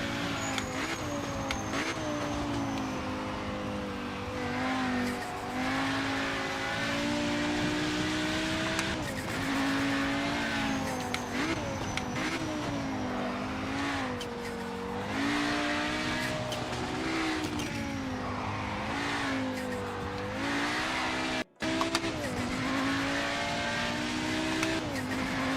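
Race car engine in the video game Project Motor Racing, loud and continuous with rising and falling revs through gear shifts, with intermittent tyre squeal under oversteer and no talk.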